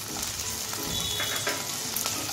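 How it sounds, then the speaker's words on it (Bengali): Chopped tomato sizzling in a pan of fried onions, a close, continuous crackling hiss with light stirring scrapes throughout and no talking. "এখন আমি কেটে রাখা আগের থেকে টমেটোটা দিয়ে দিচ্ছি।"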